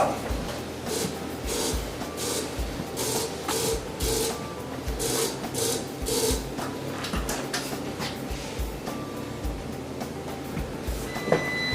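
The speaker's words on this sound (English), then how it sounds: "that spot that is arcing right now is getting really, really hot with all of the energy going through it" A Nuheat heated floor mat charged with 1000 volts, with its conductor wire arcing at a fault spot, gives off an irregular crackling buzz with sharp ticks, steady and fairly loud, with no talk over it.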